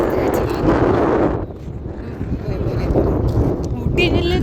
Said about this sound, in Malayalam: അപ്പൊ നല്ല കാറ്റുണ്ട്.